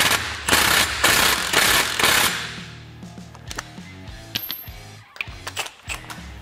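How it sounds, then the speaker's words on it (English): A wrench runs the primary clutch bolt into a Polaris Ranger, starting with a loud burst of rapid ratcheting rattles, then dropping to quieter, spaced metallic clicks and taps close by. "We're just gonna run the bolt in and then we'll torque it to factory spec."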